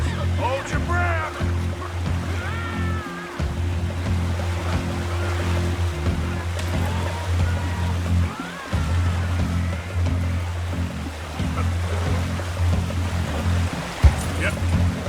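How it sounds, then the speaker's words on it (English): Rushing river rapids in the Red Dead Redemption 2 video game, a steady, full roar of churning water that runs the whole time while voices talk over it. "Look out, the rapids."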